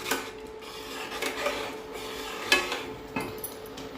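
Pineapple jam being stirred in a pot on the stove, a close scraping and rubbing with a few sharper knocks against the pot, steady and fairly quiet with no talk.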